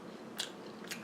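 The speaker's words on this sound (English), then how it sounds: "Y'all hear that crunch?" Two quick crunchy bites of fried funnel cake fries, close and crisp, about half a second apart over a soft background hiss.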